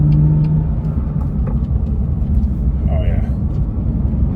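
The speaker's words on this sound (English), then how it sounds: "Take the car out for a run now that we've done the shifter bushing" A BMW F8X with newly fitted Turner Motorsport shifter bushings drives along a road, its engine and tyre noise forming a steady, close, broadband rumble throughout, with a brief voice near the middle.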